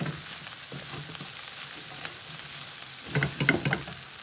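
Rice for fried rice sizzles in a hot pan, a steady close frying hiss broken by louder scraping stir strokes near the end, with no voices.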